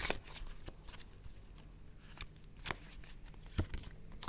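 Mermaid tarot cards are shuffled close up, with soft papery riffles and repeated sharp snaps of cards being squared, quiet and without talk.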